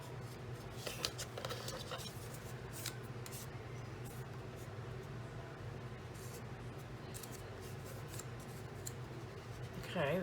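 Paper folded in half while making a Cricut pop-up wedding ring card, giving a long, faint, steady run of soft rustling and creasing scrapes with a few sharper crinkles, close by and without talk.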